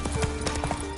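Hooves of Roach, Geralt's horse in The Witcher 3, clip-clop in a fast galloping rhythm, close and steady, with game ambience beneath and no one speaking.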